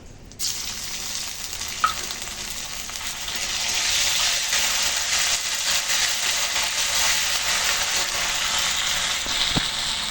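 Ginger and cumin paste dropped into hot oil tempered with dried red chilli, bay leaf and five-spice, a sudden loud sizzle that settles into steady frying hiss, with a couple of light utensil clinks.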